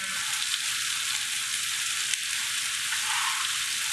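Onions cook down in a hot pan for a butternut squash hash, giving an even, bright sizzle that holds steady and close for the whole stretch, with no voices.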